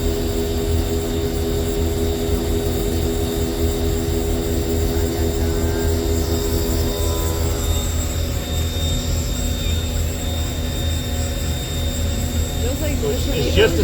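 A milling machine at full spindle speed takes a light skim cut along the X axis across a square block. It makes a steady, loud, continuous machining drone that holds for the whole stretch, with no talk.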